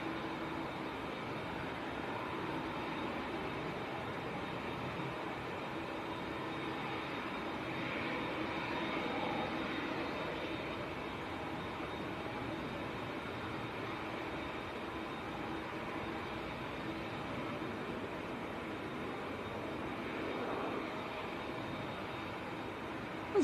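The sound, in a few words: TUI Boeing 737 jet aircraft at Manchester Airport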